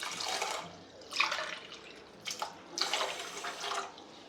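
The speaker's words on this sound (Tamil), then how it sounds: "இதுக்கு கரெக்டாக 2 டம்ளரு தண்ணி சேர்த்துக்கிறேன்." Two tumblers of water are poured over sugar for gulab jamun syrup, splashing in three or four separate pours that swell and fade, close and fairly quiet.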